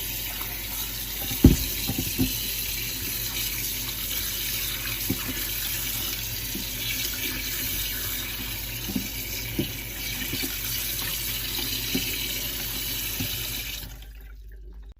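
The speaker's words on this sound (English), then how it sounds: "rinse it with cold water" Cold tap water runs steadily into a sink while food is rinsed under it, a continuous close splashing stream with a few clunks near the start, ending abruptly as the flow is cut off.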